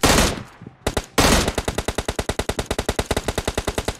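M16 assault rifle fire in PUBG Mobile Lite, a loud opening burst, a short gap, then a long run of rapid automatic shots in an even, steady rhythm close up.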